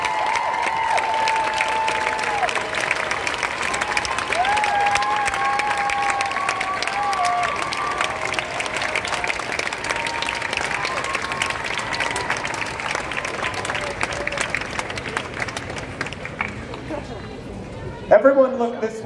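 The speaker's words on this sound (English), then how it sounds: "Please, huge round of applause." Sustained audience applause and cheering from a large Comic Con crowd for the Walking Dead cast panel, a dense steady roar of clapping filling the hall throughout, with voices mixed in and a brief louder burst near the end.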